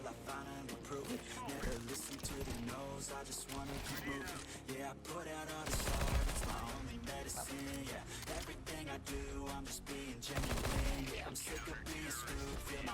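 Automatic gunfire from the game CS:GO 2 crackles in dense bursts, rising twice in heavier volleys amid steady music-like game sound and a talking voice.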